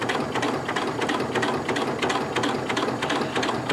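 Janome MC9900 sewing machine stitches leather with a skived seam allowance, a fast, even, close mechanical whirring and clatter running steadily throughout.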